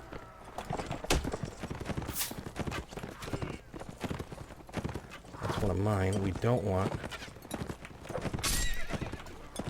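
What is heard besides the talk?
horses galloping, horse archers in Mount & Blade: Warband video game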